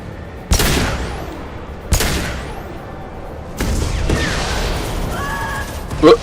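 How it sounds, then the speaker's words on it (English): Rocket explosions in Mass Effect 2 hit a character, three heavy booming blasts spaced a second or two apart, each with a ringing tail, plus a short sharp burst at the end. "One of the rockets hit that girl."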